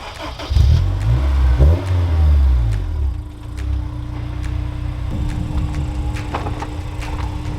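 A lightly modified, mostly stock Honda S2000 engine starts and the car pulls away, loud and close at first with revving, then a steadier running drone inside the car.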